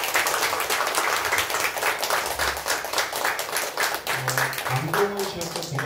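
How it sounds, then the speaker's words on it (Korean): Audience applause for an author at a Korean youth literary show, steady dense clapping filling the hall throughout, with a few brief voiced tones near the end. "박수 한번 부탁드립니다."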